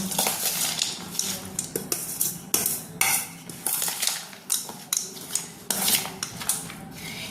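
Jhalmuri is tossed and mixed with gandharaj lime in a bowl, and a spoon clinks and scrapes against the sides. The strokes come in quick irregular bursts, close and moderately loud, with no voices.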